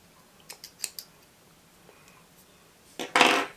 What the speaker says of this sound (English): you can take scissors or clippers or whatever you have and cut off